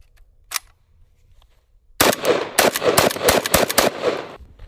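An AK-47 Kalashnikov rifle fires a rapid string of loud, sharp shots close by after a brief lone pop and near silence, the reports bunching into irregular bursts.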